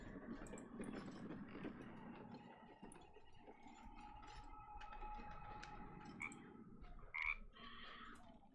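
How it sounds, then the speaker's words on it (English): A frog in the video game Baldur's Gate 3 makes a steady croaking, hissing sound that runs through the whole stretch, with a low ambient rumble underneath and a few brief higher chirps near the end. "Why is that frog hissing?"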